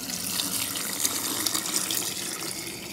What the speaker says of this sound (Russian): Через сито добавляю бульон